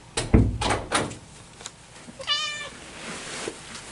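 Mittens the cat gives a short, clear meow near a door, after a few rough knocking or scraping bumps at the door, heard close, with no talk.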